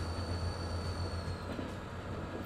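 Trains rolling in the modded railway simulation game Transport Fever 2, a steady low rumble of wagons with faint high whine, continuous and moderately quiet with no talk.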